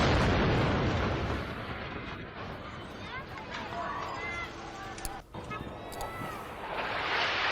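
Bombing explosions at a Gaza refugee camp housed in a school, heavy booming rumble at the start, then continuing blasts and chaotic noise with shouting voices, loud and close.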